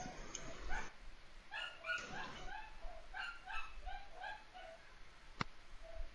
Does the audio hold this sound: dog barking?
yes